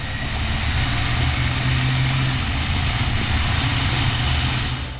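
A Group B rally car engine roars steadily while driving, a loud continuous drone with rumbling low end and wind noise, no voices over it.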